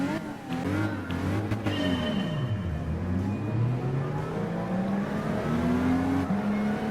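Classic Jaguar E-Type with a 5-speed transmission in the racing game Gran Turismo Sport, engine revving steadily and loud, pitch dipping then climbing through the gears in a continuous close drone without talk.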